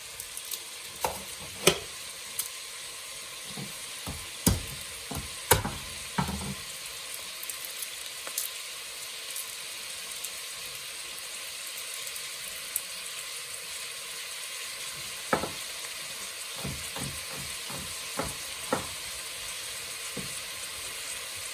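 Garlic slices frying with bacon in a pot for lentil soup with chicken give a soft, steady sizzle, broken by sharp clicks and scrapes of stirring near the start and again toward the end.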